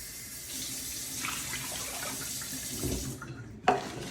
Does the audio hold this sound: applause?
no